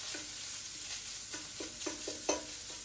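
Sirloin Steak-umm meat sizzles steadily in a frying pan while a utensil scrapes and stirs it in repeated short strokes, close and clear with no talking.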